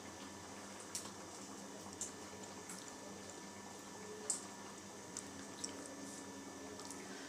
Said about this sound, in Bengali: ব্যাস, এরপর আমরা এটা ফুটতে দেবো একটু